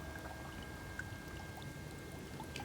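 A small solar-powered DIY garden fountain pump sprays water, giving a faint, steady splashing trickle close by with no talk.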